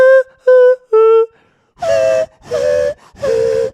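A person imitates a whistle with their voice in three short clear pure notes. Three longer breathy sung tones in head voice follow, harmonizing with the whistle, close and loud with brief pauses between.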